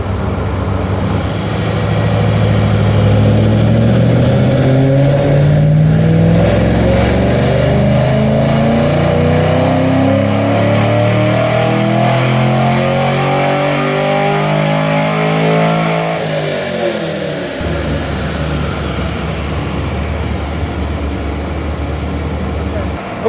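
Car engine on a dyno, revving hard and rising in pitch through a long pull at full load for about sixteen seconds, then dropping to a lower idle-like drone, loud and close.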